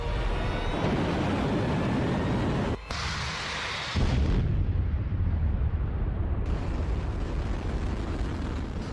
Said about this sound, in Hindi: अगर न्यूक्लियर वॉर हुआ तो उसके आगे यूक्रेन युद्ध के ये धमाके भी बहुत छोटे साबित होंगे